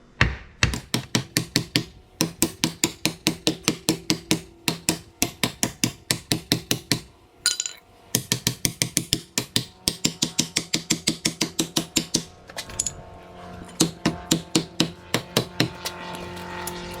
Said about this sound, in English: Maybe I should get a steel hammer. Try some body hammers.